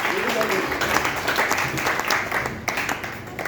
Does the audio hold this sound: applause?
yes